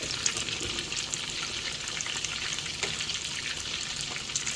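Meatballs fry in a pan for a Sicilian spaghetti sauce, giving a constant crackling sizzle with faint spits and pops, moderately quiet with no voices.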